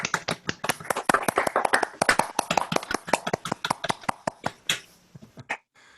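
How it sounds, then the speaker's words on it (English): An online group claps for a guest speaker in a dense, uneven burst of applause that thins to a few scattered claps and stops, with no talking. "I ask them to turn on their sound, and we applaud"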